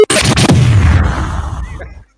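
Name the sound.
explosion sound effect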